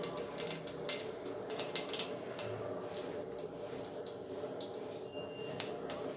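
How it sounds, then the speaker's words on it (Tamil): Mustard seeds spluttering in about a spoon of hot ghee, a dense run of sharp crackles and pops, fairly close, with some louder bursts scattered through and no talking. "கடுகு நல்லா பொரியட்டும்."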